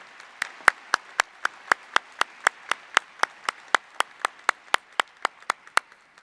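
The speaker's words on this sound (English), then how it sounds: "Let's give another round of applause for our great choir and their teacher, Mr. Jens Lovetang." Clapping at a high school graduation ceremony after a choir performance comes as about twenty crisp, evenly spaced claps in a steady beat. It sounds like a single nearby clapper rather than a full crowd, with no talk.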